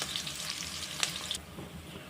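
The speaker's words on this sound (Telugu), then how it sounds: "ఆనియన్స్ వేసుకొని మంట మీడియంలో ఉంచుకొని ఇలా కలుపుతూ ఈ ఆనియన్ ముక్కలను జస్ట్ గోధుమ రంగు వచ్చేంత వరకు ఆయిల్లో ఫ్రై చేసుకోవాలి." Onions frying in oil over medium heat, stirred with a spoon; a close, steady crackling sizzle with a couple of brief scraping clinks, softening after a moment.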